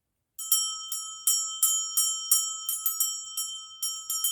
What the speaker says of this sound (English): We'll use the bell.